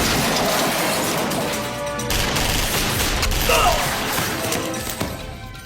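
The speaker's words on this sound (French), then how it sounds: "On dirait une fusillade." Loud, dense crashes and bursts of rapid gunfire roll on continuously, harsh and close, with a brief voice underneath.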